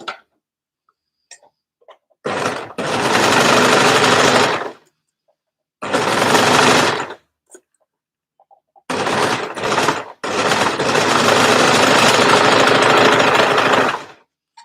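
A sewing machine, likely an overlocker, stitches and trims fabric in three loud rapid bursts of dense mechanical chatter, separated by short silences, close up and with no talking.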